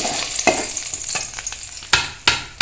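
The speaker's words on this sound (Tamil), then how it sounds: "கரையிறதுக்கு காஞ்ச மிளகா வடவம் கொஞ்சம் பூண்டு எல்லாம் போட்டாச்சு" Dried red chillies, vadavam and garlic fry in a pan, with a steady sizzle under sharp scraping strokes of a spoon stirring, louder clacks near the end, no talk.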